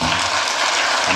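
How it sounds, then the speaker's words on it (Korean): Congregation applauding in a church service to encourage the choir and instrumental team, a dense, steady wash of many hands clapping that fills the room evenly throughout. "이분들에게 격려의 박수로 한번 하겠습니다"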